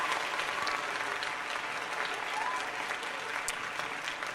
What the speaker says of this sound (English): That kind of deserves some golf claps there.